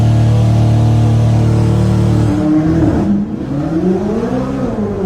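A Chevrolet C8 Corvette sports car holds a steady high-rev drone under launch control, then lunges forward as the engine note drops and climbs again through rising gears, loud and close.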